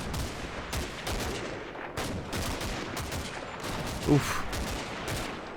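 Gunfire in the World War II strategy game Combat Mission: Battle for Normandy, with repeated sharp shots and bursts from several directions forming a steady crackling barrage, and a brief grunt from a voice partway through.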